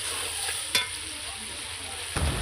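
A chicken curry with tomatoes fries in a pan with a steady, low sizzle, broken by a sharp scrape or knock of the spoon near the start and another stirring clatter near the end.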